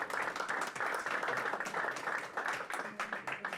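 Attendees at a talk on a rural mobility research project give a round of applause, a fairly quiet, textured patter of clapping heard across the room.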